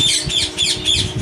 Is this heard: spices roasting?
no